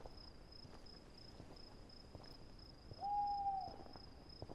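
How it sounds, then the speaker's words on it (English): A single owl hoot sounds once, clear and steady, over a constant high chirring of crickets in a quiet night setting. "An owl calls from somewhere"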